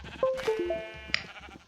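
Sheep in the video game ATM Spellbound bleat in a quick cluster of three or four short, wavering calls, followed by a brief sharp click over a soft steady background.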